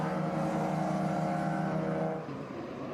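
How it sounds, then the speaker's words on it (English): Race cars at Lime Rock during SVRA SpeedTour vintage racing, including a yellow and black Mazda RX-7, roar past in a dense, sustained engine drone that fades slightly near the end, with no talk. "So that's Scott Merrick there in that yellow and black Mazda RX-7"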